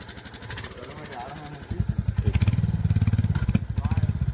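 A motorcycle engine idles in a regular low thump, then the throttle opens and it revs in quick, loud rhythmic pulses, with people talking nearby.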